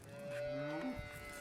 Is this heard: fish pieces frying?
no